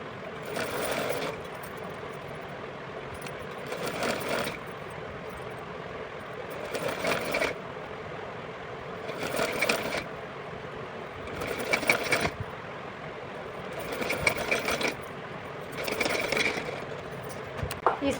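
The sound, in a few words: sewing machine stitching cloth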